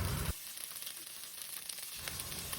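Chicken breast deep-frying in a pan of oil gives a steady, close sizzle with a soft crackle, loud at the very start and then settling into an even hiss with no talk.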